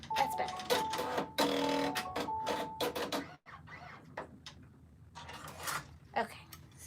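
An embroidery machine stitching an appliqué flower on a shirt, whirring and clicking in quick irregular bursts with short pauses. Soft talk drifts in and out beneath the stitching.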